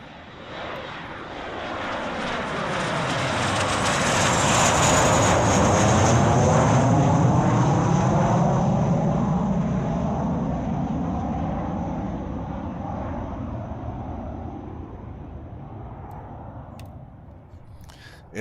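A jet aircraft sound effect swells as the plane approaches, peaks in a loud sustained roar, then fades slowly as it passes, with no talk.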